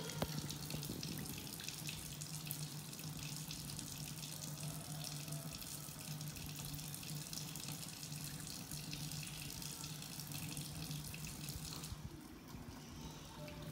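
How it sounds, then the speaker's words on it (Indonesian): A tap runs steadily into a sink during handwashing, a continuous close hiss of flowing water that cuts off near the end, with no voices. "Setelah itu kita bilas, lalu dikeringkan menggunakan tisu."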